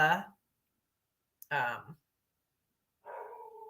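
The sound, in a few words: dog barking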